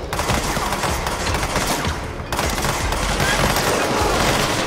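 Rapid, dense gunfire in the video game Control rattles continuously, loud and close, with a brief dip midway before the barrage resumes.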